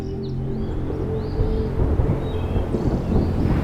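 Deep, continuous rumbling thunder rolls on steadily over the Kalahari, low and heavy, with a faint whistle of wind above it.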